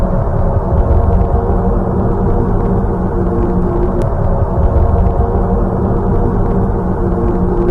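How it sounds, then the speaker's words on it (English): A space sound recording of the planet Jupiter plays as a loud, dense, continuous low rumbling drone, steady and unbroken for the whole stretch with no voices. "This is what Jupiter sounds like."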